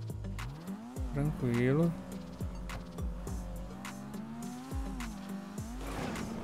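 A car revs through shifting engine notes with tires squealing in bursts during a parkour race in the video game GTA 5, while someone talks over the driving.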